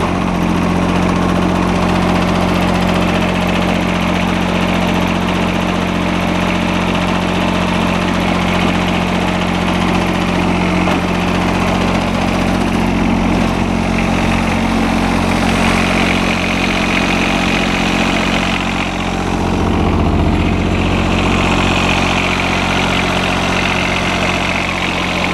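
John Deere 455 tractor engine running at a loud, steady drone with a low hum, a slight rise and dip in pitch near the end, close up and uninterrupted.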